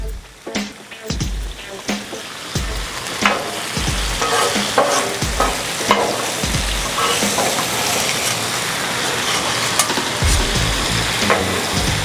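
Bean sprouts sizzle steadily on a hot Blackstone griddle, a loud continuous frying hiss broken by repeated scraping and tapping as a spatula stirs and turns them.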